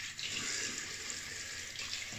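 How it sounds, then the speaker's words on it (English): Steady tap water runs and splashes continuously onto a silvertip shaving brush, close by and fairly loud, with no talking. "Dab a little bit of water on the brush."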